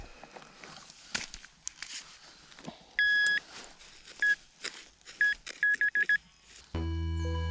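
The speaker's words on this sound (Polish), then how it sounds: "Mam dosyć ładny sygnał." A metal detector sweeping over a dump site gives a series of sharp electronic beeps, a sustained tone near the start and several short bursts later, followed by a steady louder tone at the end, with rustling and footsteps between.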